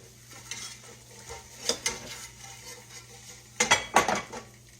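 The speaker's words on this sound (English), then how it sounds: "Make sure you stand there and stir it." Gravy stirred in a pan, with a spoon scraping and clinking against the metal in irregular bursts over a low steady background hum, a few louder knocks near the end.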